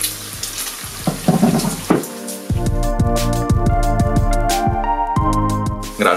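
Sauce for Lithuanian cepelinai frying in a pan, a steady close sizzle with some stirring at the start, which then turns into a continuous loud crackle with tonal hiss layered over it.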